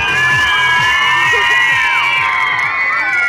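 Children in an audience at a stage show shriek and whistle together, a loud sustained crowd of high cheering voices with overlapping whoops filling the whole moment.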